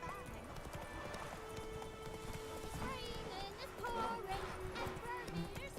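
Horse hooves clip-clop at a run in The Witcher 3, a steady drumming heard under continuous talk and game music.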